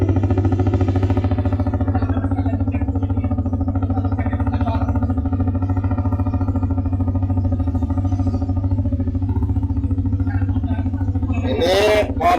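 A custom Honda CBR150 neo scrambler motorcycle idles steadily on a test ride, its engine thrumming and clattering close by for several seconds before a brief swell of noise at the end.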